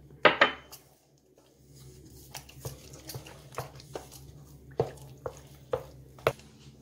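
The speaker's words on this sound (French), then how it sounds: "J'incorpore maintenant mes œufs un à un." Eggs are worked one at a time into choux pastry dough, giving sharp knocks of a utensil against a bowl or pan, then a steady run of lighter taps and scrapes, close and alone without talk.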